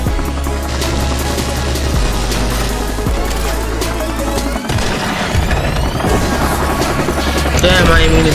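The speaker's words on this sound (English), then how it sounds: "Friendly chopper on." A friendly helicopter in Call of Duty Modern Warfare Remastered thumps loudly and continuously, mixed with bursts of gunfire and in-game combat noise throughout.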